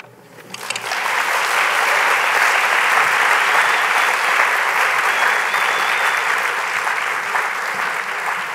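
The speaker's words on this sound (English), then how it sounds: "Yes, please continue your applause." Steady, dense audience applause at a book awards reading, rising quickly after a brief quiet start and holding loud and even throughout with no talk over it.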